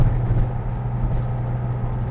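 Exhaust of a restomod Datsun 280Z while driving: a steady, close low engine drone with a strong bass hum, holding even throughout with no talk.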